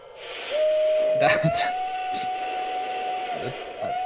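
A video game train whistle gives a long, steady, thin tone lasting about three seconds over a hissing steam-like background, with short breathy bursts partway through.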